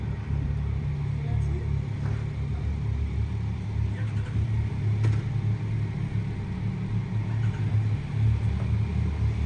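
Steady low engine rumble of a group of Yamaha XSR 900 GP motorcycles idling and revving at a launch event, continuous and fairly loud, with faint voices and crowd noise in the background.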